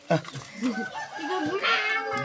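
A chicken clucks and calls close by on a rural farm plot, its warbling cries rising and falling over a couple of seconds while a person speaks nearby.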